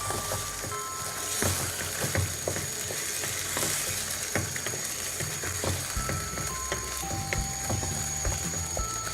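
Chicken curry with yogurt being stirred in a frying pan: steady sizzling with scraping utensil strokes against the pan and occasional clinks, close and continuous, no talking.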